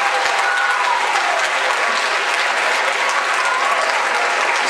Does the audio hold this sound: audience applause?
yes